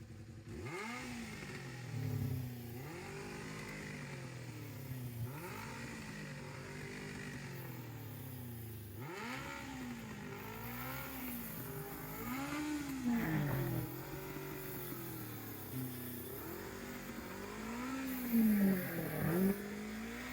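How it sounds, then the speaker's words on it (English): The engine of a 1995 Kawasaki Ninja ZX 750 motorcycle under restoration rumbles close by at a rough idle, with repeated throttle blips rising and falling in pitch as it revs. "Babe, can you start it up, please?"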